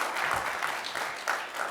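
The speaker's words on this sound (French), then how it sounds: "Applaudissements, 2 minutes devant les jurys." Audience applause at a televised business pitch competition in front of a jury, steady clapping from a crowd sustained throughout, fairly close and continuous with no talking over it.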